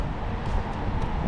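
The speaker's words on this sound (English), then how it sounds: "Sorry about the wind." Wind buffets a microphone outdoors at sunset beside the Grand Mosque in Abu Dhabi, a steady low rumble with no other sound.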